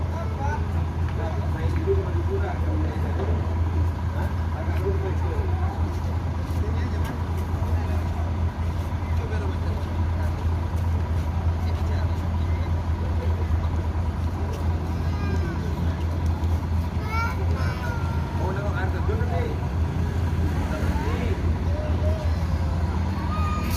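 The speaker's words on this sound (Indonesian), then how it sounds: "Kita akan menunggu bus ini keluar Terminal Barisolok menuju Lubuk Basung." AL HIJRAH sleeper bus leaving the terminal as a constant low engine rumble and drone, with steady background road and crowd noise and occasional voices mixed in.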